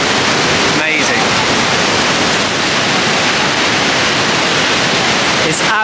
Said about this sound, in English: The sheer volume of water coming over the edge there, and then it just disappears into this mist